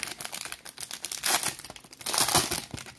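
A foil wrapper on a 2020 Topps Gallery Baseball or Prizm Nascar trading card pack crinkles and tears open close by, a stretch of papery rustling that builds into two louder ripping surges, with no talking.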